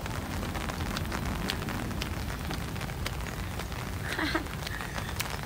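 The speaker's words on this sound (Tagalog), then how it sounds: "So ngayon ay umuulan." Steady rain patters densely nearby in Singapore, a continuous wash of droplets with scattered sharper drips and a faint voice-like sound briefly underneath.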